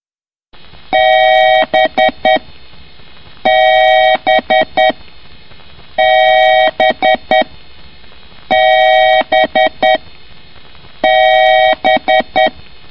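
A Windows computer gives repeated electronic beeps during shutdown, loud bright tones in five evenly spaced bursts, each a held tone followed by a few quick short blips.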